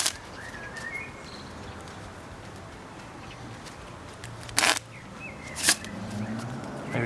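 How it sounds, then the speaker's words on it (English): Deck of playing cards riffle-shuffled in two brief, crisp bursts over a quiet indoor background, with faint bird chirps outside. "Now I'm going to shuffle the deck."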